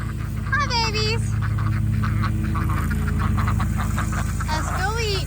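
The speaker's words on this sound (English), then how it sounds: "And here come the ducks." Ducks quack at a farmstead during morning chores, several raspy calls close by over a steady low rumble, with someone talking to them in between.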